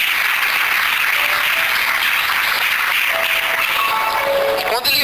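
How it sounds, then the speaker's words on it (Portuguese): A church congregation at an anniversary service applauds in dense, sustained clapping that fills the room, with faint voices and a few tonal pings surfacing near the end. "Quantos podem aplaudir ao Senhor nessa noite?"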